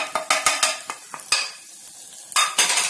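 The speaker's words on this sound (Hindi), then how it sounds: "इन सब मसालों को हमें एक मिनट के लिए भून लेना है।" Spices frying in a pan with Kashmiri chilli while cooking gatte ki sabji, heard as close sizzling broken by repeated sharp scrapes and clinks of a spoon stirring against the pan, loud and irregular, with no talking.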